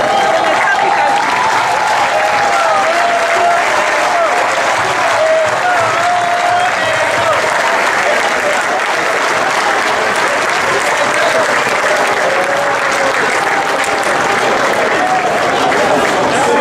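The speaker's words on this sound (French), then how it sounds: "je vais vous prier une fois de plus de vous lever et d'applaudir pour le président Iya" A large crowd at the inauguration of the Cameroonian football federation headquarters gives sustained, loud applause for a president, continuous clapping with a faint voice running underneath throughout.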